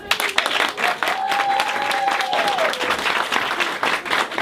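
An audience claps for team members being introduced at a business event, a lively sustained round of applause with a few cheers and a rising whoop-like tone threaded through the middle.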